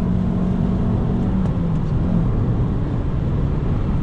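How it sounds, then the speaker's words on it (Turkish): A Fiat Punto 1.4 engine revs steadily on a rainy forest road, a close, sustained drone with a slight pitch shift and no talk. "Mesela şu an devir çevirirken gayet güzel."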